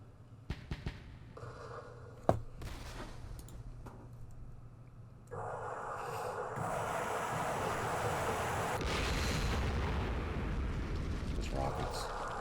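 Rocket explosions in the Vietnam war game Campaign Series Vietnam, a few sharp early bangs followed by a long rumbling roar that swells and stays loud, with faint talk early on.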